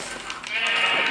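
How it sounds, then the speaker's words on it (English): Sheep bleating in the Minecraft video game, a short synthetic bleat rising over steady background game audio, fairly close and alone with no talk. "Can you kill that sheep for me, please?"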